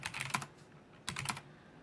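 Two quick bursts of typing a command on a computer keyboard, close and fairly quiet, with a brief pause between the clusters of key clicks and no voices.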